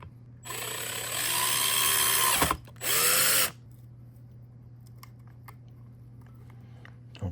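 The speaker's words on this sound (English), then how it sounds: "And you'll put the 3 screws back in that you removed." A power drill drives screws back in while a ceiling fan is installed, giving two close, loud whirring bursts separated by a short pause, followed by faint handling clicks.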